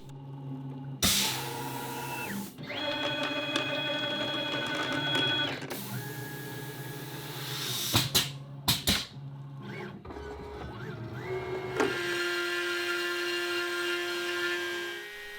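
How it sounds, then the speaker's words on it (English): A CNC router with a fresh tool cuts the outer shape and small winch pockets from wood, giving steady whining machine tones that step in pitch. Brief louder bursts and pauses break the even, close-up hum. "Tool change to cut the outer shape, and the little pockets for the winches."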